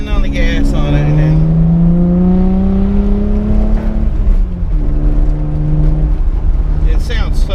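A 1995 Toyota Supra with the 2JZ engine holds a steady rev around 3000 RPM, a loud, close, smooth drone that swells and eases slightly with throttle, with occasional speech over it.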